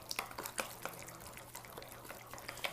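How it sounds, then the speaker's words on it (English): Pesto of black pepper, oregano and cheese being stirred, giving a run of soft, irregular wet clicks and taps close by, with no voices. "got the black pepper, got the oregano, got the cheese. And I'm just gonna mix it up like so."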